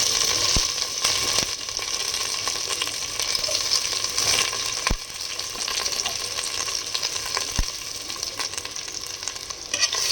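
Chopped large onions frying in a pan with cardamom and curry leaves for seeraga samba chicken biryani, a continuous dense sizzle broken by a few sharp utensil knocks against the pan.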